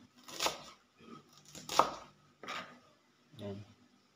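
A knife chops through cabbage on a cutting board in four separate, close strikes with pauses between them, each a crisp crunchy thud.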